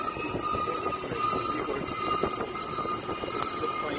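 An airport people mover train runs through an underground rail system, a steady rolling rumble with a sustained tonal whine and faint rattles heard from within a played recording, no voices.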